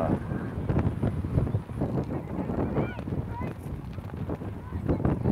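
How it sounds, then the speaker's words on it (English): Strong wind buffets the microphone at an outdoor sports match, a steady rumbling roar through the whole stretch, with faint honking birds and distant voices partly masked beneath it. "It's super windy, even compared to yesterday."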